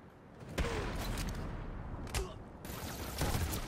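Gunfire aimed at Batman in Batman Arkham City on PS5: dense, rapid bursts of shots crackling over a constant noisy game backdrop, with sharper blasts standing out at intervals.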